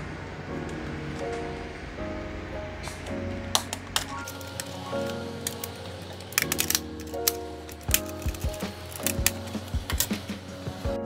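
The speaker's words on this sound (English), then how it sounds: "grab your prying tool and take out the decorative strip that you have right now" A plastic prying tool works the decorative strip off a PS5 controller, giving a series of sharp clicks and snaps that grow denser toward the end over a tonal background hum.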